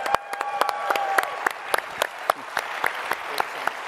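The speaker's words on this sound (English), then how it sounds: "could you all show how much you appreciated him by getting out of your seats and giving him a big round of applause?" Sparse applause at a tech talk, with individual claps standing out as sharp separate hits close by over a thinner wash of clapping from the crowd, a faint tone lingering early on.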